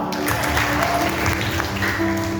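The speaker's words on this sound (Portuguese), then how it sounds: "Batam palma, ouviu" A church congregation claps steadily together, a dense wash of applause filling the room, with music or faint voices underneath.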